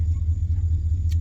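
A cheap old Marketplace truck idles with a steady low engine rumble, constant and close, with a faint click near the end.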